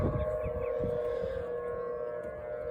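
A civil defense siren sounds during its routine first-Wednesday-of-the-month test, a steady loud wail holding through the whole stretch with other sirens overlapping from several directions, under a low rumble and no talk.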